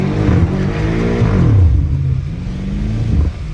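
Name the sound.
BMW M5 Competition engine revving while drifting in snow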